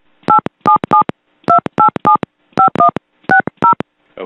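Telephone keypad tones punched in for a three-way call, a loud, close run of about a dozen short, evenly spaced beeps in small groups with brief gaps.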